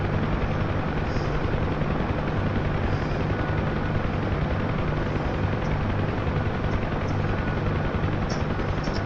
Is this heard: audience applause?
no